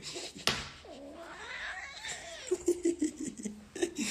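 A cat meows and caterwauls in a drawn-out, wavering cry, followed by short choppy bursts that resemble laughter, all fairly faint.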